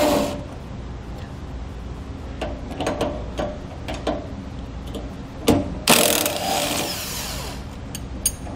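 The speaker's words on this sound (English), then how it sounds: "Now we're going to remove our 5 bolts from our equalizer so that we can get our new equalizer in" Bolts come out of a trailer's suspension equalizer with ratcheting, clanking metal on metal, close and fairly loud, with a sharp burst of tool noise midway.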